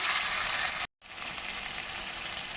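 Chopped onions and tomato fry in a pan, a steady close sizzle broken by a brief moment of silence before the frying hiss resumes, with no one talking.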